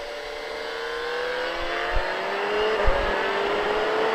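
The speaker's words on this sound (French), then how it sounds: "on redresse la moto et ensuite on accélère" A motorcycle accelerates out of a curve on a coned riding course, its engine note climbing steadily and continuously at close range with a couple of brief thumps, and no talking.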